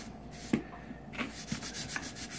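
A copper-bottom pot is scrubbed with Penny Brite cleaner in short, irregular rubbing strokes, quiet and close, with a few sharper scrapes and no talking.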